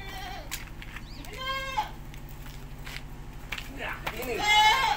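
A pregnant young doe goat offered for sale bleats a few times, close and loud, amid other goat calls. People talk in the background and footsteps shuffle nearby.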